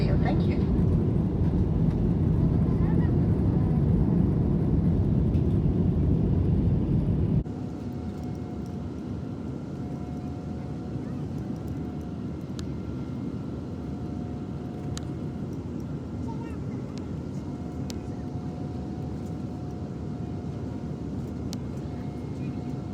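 Airplane cabin during landing: a loud, steady low rumble for about seven seconds drops abruptly to a quieter, even hum with a faint sustained tone that continues to the end.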